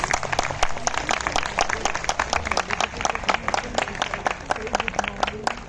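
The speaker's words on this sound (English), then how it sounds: "Everyone please applaud for our little achievers." Steady applause from an audience at a school prize-giving ceremony, many hands clapping in a dense rapid patter with some crowd murmur and voices underneath.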